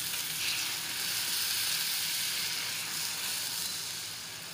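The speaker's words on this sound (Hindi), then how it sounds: "अब हम इसको दूध के साथ पका लेंगे।" Hot caramel in a pan sizzles and hisses steadily as milk is poured in, a continuous close frying crackle with no speech, fading slightly at the end.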